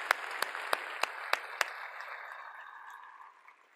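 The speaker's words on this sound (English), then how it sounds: "I'm just going to give a round of applause for the Ember core teams" Audience applause at the EmberConf 2017 tech conference for the Ember core teams, a steady wash of clapping with a few sharp close claps early on, fading gradually toward the end.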